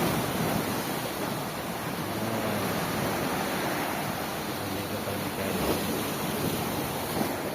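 Strong ocean surf breaking at a shoreline while out fishing, a continuous loud roar of crashing water and wind rush filling the whole stretch with no pause.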